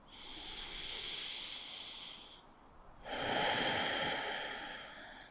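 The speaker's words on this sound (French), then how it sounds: "Prenez une dernière respiration." Slow, deep yoga breaths close to the mic: a long hissing inhale, a short pause, then a louder, fuller exhale, no talking.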